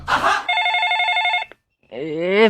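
A telephone rings with a bright electronic tone held for about a second, followed after a short pause by a voice speaking.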